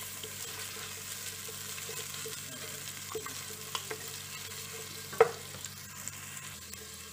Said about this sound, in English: Now I throw in the onion.